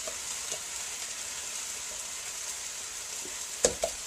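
Turkey kielbasa fries in a pot with a steady, close sizzle, broken by a few small pops and stirring clacks near the end.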